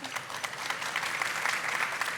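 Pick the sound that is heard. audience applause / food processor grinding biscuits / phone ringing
audience applause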